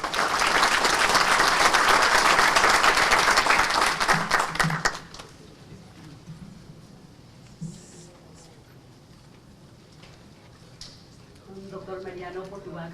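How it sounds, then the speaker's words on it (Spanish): An audience at a judicial academy conference gives sustained, dense applause for a welcoming speaker for about five seconds before it stops abruptly, followed by a quieter room with scattered shuffles and a voice speaking at the end. "Un voto de aplausos para ella, por favor."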